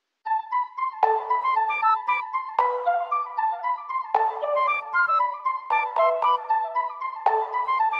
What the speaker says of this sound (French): J'ai rajouté une autre flûte sans les effets,